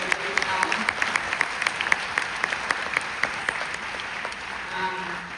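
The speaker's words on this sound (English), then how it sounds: "everybody give them a round of applause" Audience applause at a film festival screening introduction, a steady crowd of hands clapping with sharp individual claps standing out, moderately loud and continuous; a voice briefly speaks over it near the end.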